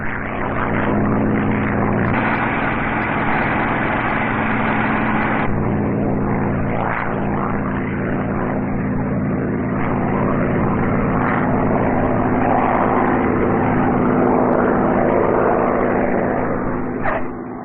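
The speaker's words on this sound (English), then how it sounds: "After touching down on one wheel and rolling a bit, Bob changes wheels and then settles down to" A P-51 Mustang propeller aircraft lands and rolls along the runway, its piston engine and propeller producing a steady, loud droning roar that holds throughout with slight shifts in pitch.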